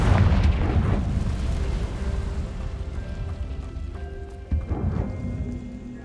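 The Confringo fire spell in Hogwarts Legacy bursts in a heavy, rumbling explosion that opens loud and slowly decays into crackling debris, with a second smaller thump near the end.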